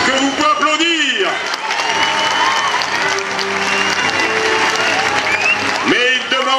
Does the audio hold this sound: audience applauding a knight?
yes